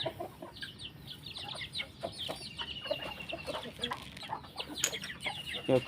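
Chickens clucking and chattering steadily close by, a lively flock with occasional sharper calls and faint voices in the background.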